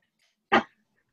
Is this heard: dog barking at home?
yes